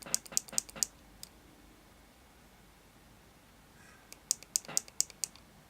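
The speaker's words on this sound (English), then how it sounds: "You can either turn the mod on and off by clicking 5 times" Fire button on a Teslacigs XT vape mod clicked rapidly, with a quick burst of about five sharp close clicks, a pause of quiet, then another fast run of clicks.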